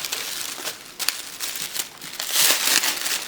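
Craft paper from a spring happy mail package crinkles and rustles as it is handled close by, in repeated short bursts that grow louder toward the end, with no talk over it.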